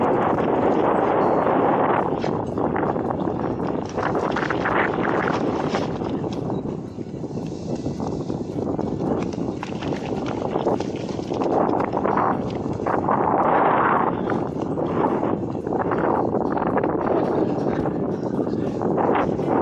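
Loud, sustained wind roars and gusts against the microphone throughout, swelling and easing in waves, with faint voices buried underneath.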